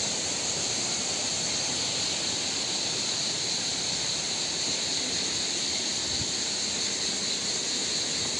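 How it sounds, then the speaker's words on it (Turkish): Steady broadband rush of water at the upper part of a waterfall in a nature park, flowing and collecting before dropping downstream; continuous, close and even throughout with no voices. "Burası şelalenin yukarı kısmı. Buradan böyle toplanıp aşağıda akıyor."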